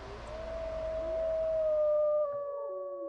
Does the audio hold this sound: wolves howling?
yes